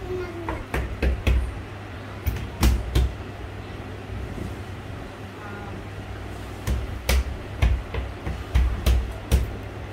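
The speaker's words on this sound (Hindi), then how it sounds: "नॉक करो नॉक करो।" Knocking on a door in a home, short clusters of sharp knocks separated by pauses, with voices talking in the background.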